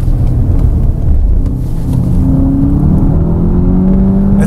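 A Volkswagen GTI drives hard on a racetrack, its engine a loud, steady drone with rising pitch as it accelerates out of a curve under full throttle, continuous and close throughout.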